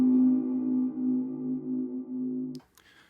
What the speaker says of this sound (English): Now here on layer A, we're using a sample called Tunnel String Hit,